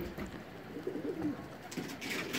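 Pigeons of a high-flying flock in Tabuk, Saudi Arabia, cooing close by in soft, repeated low warbling calls over faint background noise.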